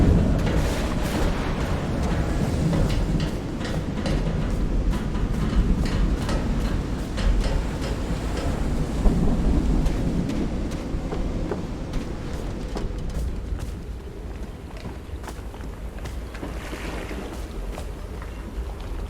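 A thunderstorm in the video game Call of the Sea: dense, steady rain hiss lies over deep rolling thunder rumbles, with scattered cracks and spatters throughout and no voices.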